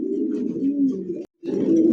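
Pigeons coo close and loud in a throaty, rolling drone, a long call breaking off after about a second and resuming after a short silence.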